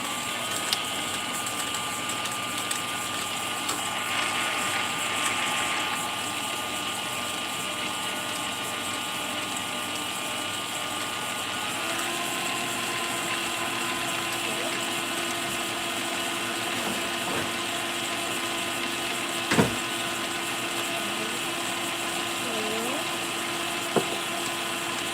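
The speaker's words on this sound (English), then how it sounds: "drop in the head of our mixer and mix this together for 3 minutes" A stand mixer beats cake batter for mini heart cakes, a steady close motor whir with broad churning noise running throughout, holding an even level with a couple of brief clicks near the end.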